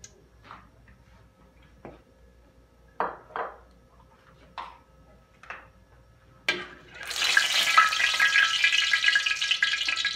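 Oil heating in a frying pan: a few sparse clicks and knocks in near quiet, then a sudden, loud crackling sizzle that fills the last few seconds.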